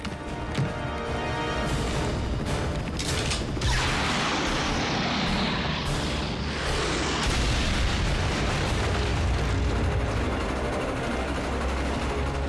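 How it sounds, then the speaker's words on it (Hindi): A cartoon explosion blows up train tracks in a dubbed animated robot series, with a sustained loud rumbling roar and crackling debris, preceded by sharp mechanical clatter and building into dense low booms. "मैक ने ट्रेन ट्रैक्स उड़ा दिए"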